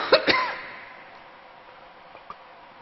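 A couple of short, sharp coughs ring out near the start during a university lecture hall talk, followed by quiet room tone with faint ticks.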